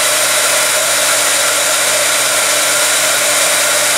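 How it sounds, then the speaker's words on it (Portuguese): Heat gun blowing steadily at close range to melt embossing powder on a butterfly box craft project, a continuous loud broadband whooshing hum held unchanged for the whole stretch with no talk. "E a gente vem com o soprador."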